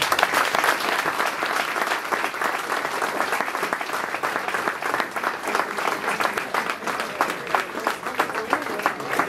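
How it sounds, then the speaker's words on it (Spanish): Sustained, dense applause from a large crowd at an event honoring Argentine Olympic medalists and youth athletes, steady and loud throughout with no pauses. "despedimos con un fuerte aplauso a todos los juveniles"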